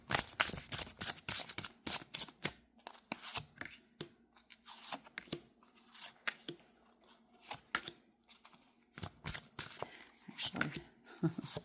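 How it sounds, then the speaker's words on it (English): Tarot and oracle cards riffle and slap repeatedly at close range, irregular bursts of shuffling separated by short pauses, with faint background murmur. "let's go ahead and get to the shuffling of the decks."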